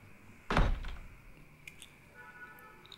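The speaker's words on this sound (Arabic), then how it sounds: "فوت بس سكر الباب" A door pushed shut indoors in a quiet domestic room, one close dull thunk followed by brief settling rattles, then near silence.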